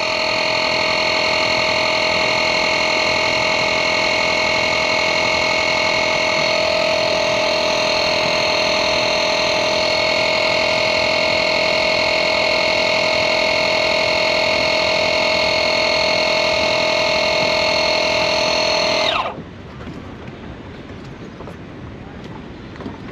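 A Dewalt 20V cordless air compressor runs steadily while pumping up a tire, a loud continuous motor drone with a tonal whine that holds for about nineteen seconds before cutting off abruptly, leaving quiet room tone.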